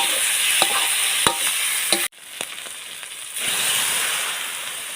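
Canned fish and egg being stir-fried in a pan give a steady, bright sizzle with a few scraping stirs. The sizzle drops off sharply partway through, then gradually builds again.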